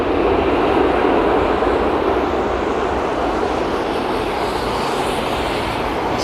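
Boeing 777-200 with Rolls-Royce Trent 800 engines landing on Heathrow runway 27R in wet, windy weather, a loud, sustained engine roar mixed with wind rush, steady and close throughout.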